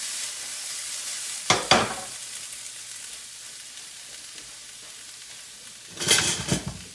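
Chopped onion hits a hot pan and sizzles: a steady hiss under two bursts of louder crackling and stirring, one early and one near the end, close and with no voices.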